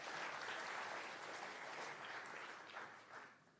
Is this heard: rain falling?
no